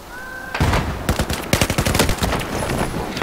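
Battlefield 4 gunfire comes in loud, rapid automatic bursts of sharp shots, starting after a brief quiet tone and continuing in uneven volleys close to the listener, with no talking.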